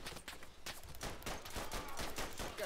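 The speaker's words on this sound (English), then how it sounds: "Got shot from behind the wall." Scattered rifle and machine-gun fire in the First World War shooter Verdun, many rapid overlapping shots crackling steadily at mid distance, with no talking.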